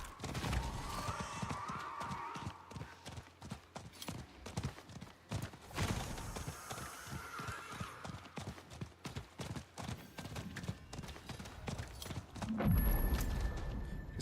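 A horse's hooves clip-clop in a steady rhythm in the Diablo 4 video game, mid-level with game effects and a brief low rumble near the end, no talking.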